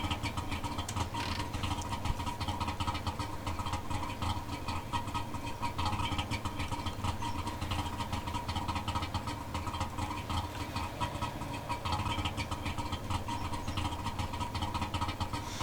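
Barkas van engine idling in The Long Drive driving game, a steady, continuous mid-pitched rumble that holds evenly throughout with no talking.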